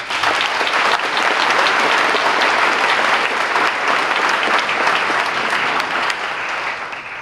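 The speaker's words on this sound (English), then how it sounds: "so let's please give them a round of applause" A banquet audience at a senior banquet applauds the school television crew, sustained dense clapping from a full room lasting several seconds and easing slightly at the end.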